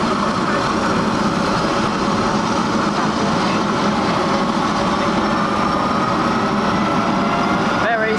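In Trafalgar Square, a helicopter taking off produces a steady, broad roar of rotor and engine noise that fills the whole stretch, with faint voices in the crowd underneath.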